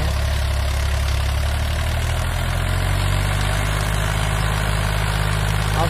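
A Mahindra 265 29 HP tractor drags a 7-foot Shaktiman rotavator through a wet field, its engine a loud, steady, close-up low drone with constant mechanical rumble throughout.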